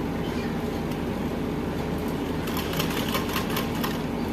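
An electric sewing machine stitches the sleeve of a bordered blouse, a steady close whirring drone that runs the whole time, with faint rapid ticking toward the end.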